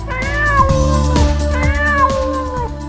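A cartoon cat eating meat lets out two drawn-out, wavering meows, close and loud over sustained background music.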